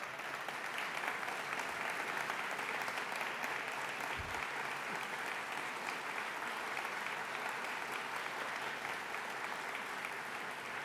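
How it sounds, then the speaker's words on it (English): An audience at a 2023 philanthropy awards ceremony applauds award recipients, a steady, dense wash of clapping that holds evenly throughout without a break. "give them a round of applause"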